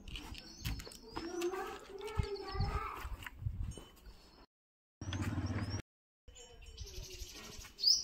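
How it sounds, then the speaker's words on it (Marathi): Small birds chirping and twittering outside a home in the morning, repeated short high calls over soft background noise, with brief gaps of silence and a burst of brighter chirps near the end. "मी घरी आल्यानंतर इतके छान पक्षी मस्त चिवचिव करत होते."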